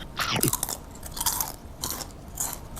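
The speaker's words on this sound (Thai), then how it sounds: "เดี๋ยว ฟังเสียงการกินดู" Crisp, light crunching of a healthy green vegetable snack being bitten and chewed up close, several distinct crunchy bites in quick succession with no talking.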